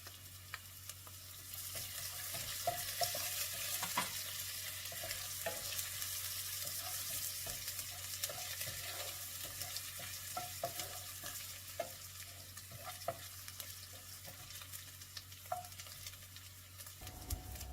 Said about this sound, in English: Let's put the green chili in and fry it for a little while.